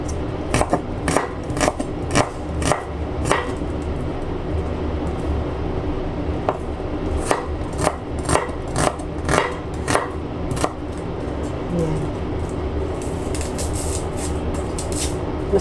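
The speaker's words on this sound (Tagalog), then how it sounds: "Maghihiwa na naman tayo ng sibuyas." A knife slices through onion on a cutting board, making crisp, close chopping taps in a steady series, with a pause partway through before the rhythmic cuts resume.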